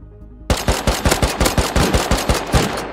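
Rapid automatic gunfire from an AK rifle in the survival game Rust bursts in suddenly, a loud, close, steady stream of shots lasting a couple of seconds.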